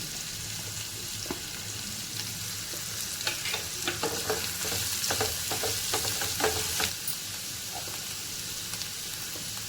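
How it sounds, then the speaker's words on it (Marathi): Chopped onion with a little salt sautéing in a pan for a dry spring-onion greens stir-fry, a steady close sizzle with a burst of scraping, clattering stirring strokes in the middle, no voices. "थोडंसं मीठ टाकून कांद्याला व्यवस्थित परतून घ्यायची आपण।"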